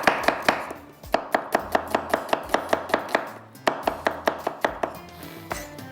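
An onion is chopped with a knife on a cutting board, rapid sharp regular knocks in quick runs with brief pauses, close and clear with no talk.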